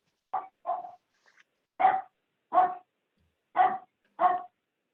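A dog barks somewhere in the background of an online meeting, about six spaced barks in a loose rhythm, moderately loud through a laptop microphone, and nobody talks over them.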